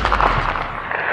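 A single gunshot from a firearm fired by an old man, startling captives in a dramatized story, a sharp loud burst with a short decaying tail, heard alone.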